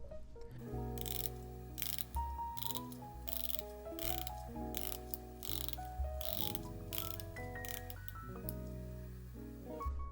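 A 120-click rotating bezel on a Seiko Monster Jade dive watch (SZSC005) is turned in a series of close, crisp ratcheting clicks, arriving in quick bursts with short pauses, no talking.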